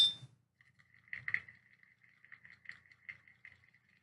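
An old run-out pen stirs a salted slime mixture, making faint, quiet tapping and clinking against the container in an irregular stirring rhythm, close by and alone.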